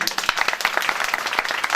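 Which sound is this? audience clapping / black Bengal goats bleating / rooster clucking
audience clapping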